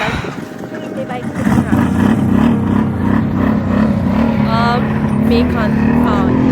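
A motorbike rides along a road in Georgia, its engine a steady, close drone with rushing wind noise throughout, and a voice briefly speaks over it.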